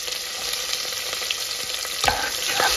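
Sliced onion frying in a pan for head curry, giving a steady bright sizzle with a few scraping stirs and pops near the end.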